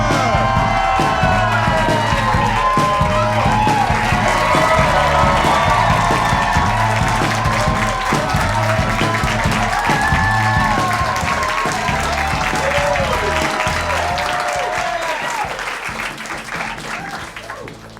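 A comedy club crowd erupts in loud, sustained applause with cheers, whoops and yells as comedian Nick Turner takes the stage, the roar holding steady before gradually tapering off.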